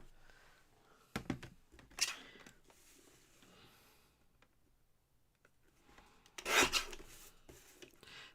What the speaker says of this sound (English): Let me trim it so it's more even.